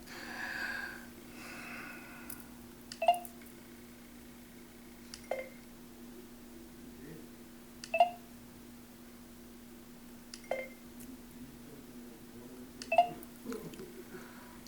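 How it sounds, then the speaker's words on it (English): A short electronic beep repeats about every two to three seconds, six times in all, over a faint steady hum. "It's not beeping because it's broken. It's beeping because it's alive."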